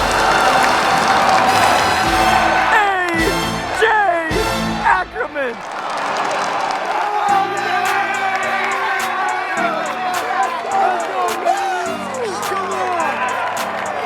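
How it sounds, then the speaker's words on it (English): A stadium crowd roars and cheers after a home run at a Wiffle Ball World Series game at Mercedes-Benz Stadium, a loud, sustained wall of whoops and clapping with an announcer shouting over it. "Listen to the crowd!"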